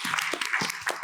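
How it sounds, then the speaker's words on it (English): Audience applause at a talk on sustainability in the fashion industry, a short stretch of steady, fairly close clapping from a group with no voices over it. "Can we just please give a round of applause?"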